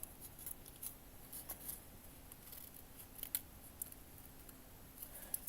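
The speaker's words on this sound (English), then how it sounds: "let me take my scissor instead. Before I cut the wallpapers off" Scissors snip through wallpaper in a small kitchen build, with quiet, irregular crisp cuts spread over several seconds against a faint background hum.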